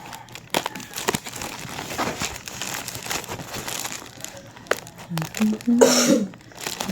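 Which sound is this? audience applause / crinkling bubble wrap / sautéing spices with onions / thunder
crinkling bubble wrap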